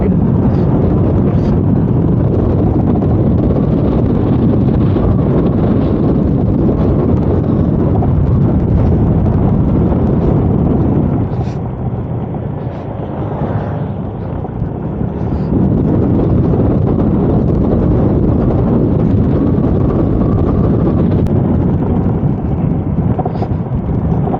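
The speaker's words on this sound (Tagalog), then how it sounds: "malamig ang hangin grabe kahit tirik yung araw yung hangin dito malamig" Strong wind buffets the microphone in a continuous roar, easing briefly midway before gusting back up.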